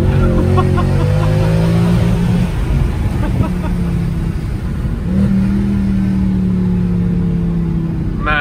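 Mercedes C63 AMG Affalterbach Edition exhaust booms loudly from inside the moving car, its engine note droning and climbing through gear changes with deep, steady tones, and a voice talks briefly over it.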